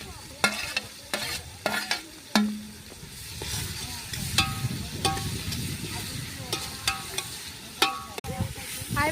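A spoon scrapes and stirs food sizzling in a pan while onions fry to golden brown for a chicken fry, with sharp clinks of metal on the pan over a steady hiss, close and fairly loud, without talk.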